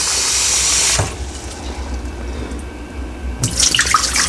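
A waterfall-style kitchen faucet runs at high pressure into a dog's water dish, a loud rushing stream that cuts off abruptly, leaving a quiet hiss before water splashes and pours again near the end.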